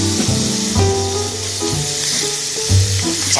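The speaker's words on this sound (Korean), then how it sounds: "베이컨 이렇게 볶기 시작하죠?" Bacon fries in a pan already used for potatoes, giving a steady close sizzle that runs throughout under a continuous tonal background.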